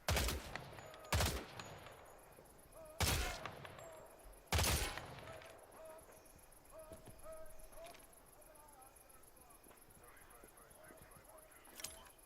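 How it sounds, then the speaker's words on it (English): Several loud, sharp gunshots ring out at targets in Hell Let Loose: Vietnam, spaced a second or two apart early on, then quieter scattered shots and battlefield ambience with a late crack. "Shoot the targets ahead, aiming for the helmet to guarantee an instant kill."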